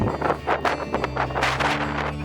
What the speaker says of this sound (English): Strong gust of wind.